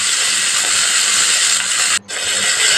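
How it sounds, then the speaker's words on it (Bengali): Pieces of katla fish frying in hot oil, a steady loud hiss and crackle that runs unbroken, with a brief dip near the end. "2 পিঠ লাল লাল করে মাছটাকে ভেজে নিব"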